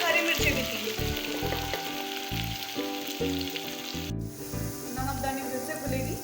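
Onion, ginger and green chilli tempering with cumin and ajwain sizzles steadily in hot oil, a close, bright crackle broken by rhythmic scraping strokes of a spoon against the pan.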